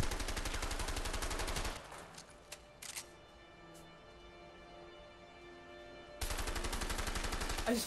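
Rapid loud gunfire in the video game A Way Out, a dense automatic burst at the start, a few isolated shots in the middle over quiet ambience, then another sustained burst at the end.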